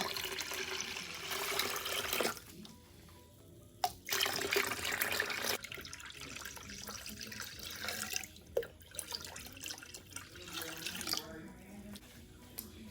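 Eight cups of cold water poured into a sweet tea mixture of tea and white sugar, splashing and gurgling in bursts with short pauses, close and fairly quiet.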